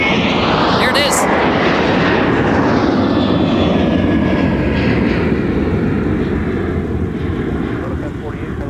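A Delta airliner departs Minneapolis–St. Paul airport with a loud, close jet roar, a high engine whine briefly sweeping at first, then the roar slowly fades and thins toward the end.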